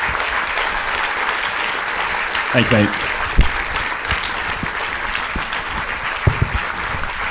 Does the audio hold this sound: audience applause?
yes